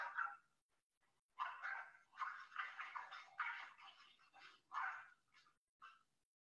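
Two dogs bark and yip in a series of short, excited bursts, fairly close and loud, with brief pauses between the barks.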